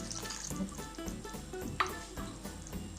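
Water splashes and trickles into a clay cooking pot for fish curry, a wet gurgling pour with small drips and a brief clink partway through.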